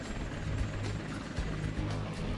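A CarterCopter gyroplane from Carter Aviation in Wichita Falls, Texas, a vertical-takeoff aircraft with a 13.7 m rotor and a propeller, makes a steady, dense roar of rotor and engine. The roar is loud and continuous, with faint low beating and no voices.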